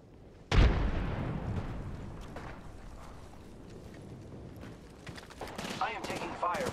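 Gunfire in the Apex Legends video game opens with a sudden loud shot, followed by rattling bursts and impacts under game effects and an in-game voice.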